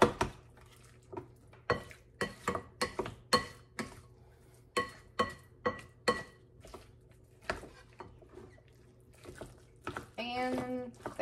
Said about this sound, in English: I'm just gonna get that egg broke up real good.